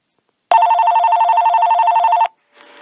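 A telephone rings in one sustained electronic burst of about two seconds, loud and close, then stops, followed by faint rustling.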